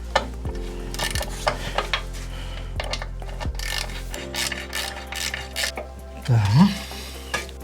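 Ratcheting and metallic clicks of a wrench loosening oil pan bolts on a Honda Africa Twin 1100 DCT motorcycle, short close bursts with small clanks and tool handling, no talking.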